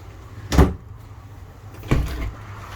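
A bathroom door in a 2021 Shadow Cruiser 239RBS travel trailer swinging shut, giving two separate soft thuds about a second and a half apart, close by in a quiet room with no talking.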